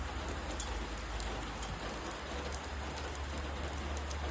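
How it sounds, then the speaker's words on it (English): Heavy rain pours steadily in windy weather, a dense, loud, continuous hiss and patter with low wind rumble underneath, no voices. "It's really starting to rain."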